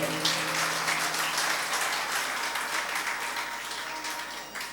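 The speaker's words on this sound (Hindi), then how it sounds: "सही कह रहा हूं तो तालियां बजा दिया करो।" Steady applause from an audience at a religious satsang, a dense wash of many hands clapping together at moderate distance, holding for several seconds and slowly fading.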